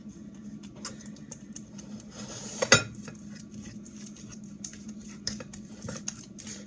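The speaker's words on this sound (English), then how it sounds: "So I'm going to mash these up." Frozen bananas are mashed in a bowl, quiet scraping and soft tapping of a utensil against the bowl under a low room hum, with one sharp clink of metal midway and scattered light knocks after.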